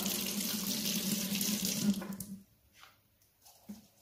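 A faucet runs steadily while a makeup brush is rinsed under the stream, then the flow cuts off halfway through, leaving a few faint drips and small handling sounds.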